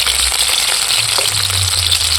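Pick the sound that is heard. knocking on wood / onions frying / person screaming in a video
onions frying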